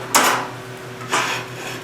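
Two sharp metallic clanks about a second apart as a smoker's damper is closed, close by, each ringing briefly before fading.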